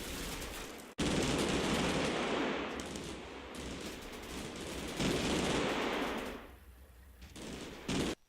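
A final exchange of fire in the WWII strategy game Combat Mission Final Blitzkrieg: sustained machine-gun rattle and rifle shots, loud and steady, briefly cut by a sharp pause, then easing toward the end.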